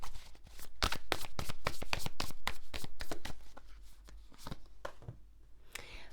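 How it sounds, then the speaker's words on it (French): Tarot cards are shuffled by hand in quick, rhythmic riffling flicks, close and fairly loud, then slowing into softer, scattered card slides toward the end, with no speech. "Allez, on tire une dernière carte avec le tarot."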